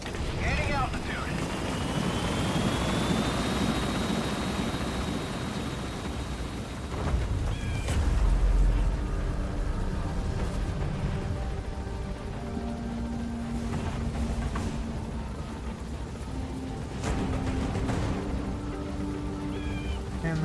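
An extraction helicopter lifts off in Metal Gear Solid V: The Phantom Pain, its rotor and engine droning steadily and loud with a rising whine, with game voices and music layered over it.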